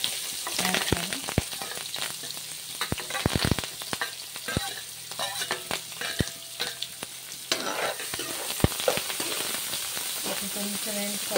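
Onion, green chili and curry leaves crackle and sizzle in hot oil for a bitter gourd pulusu, with steady frying hiss broken by sharp spatula scrapes and stirring clatter close by, no talking.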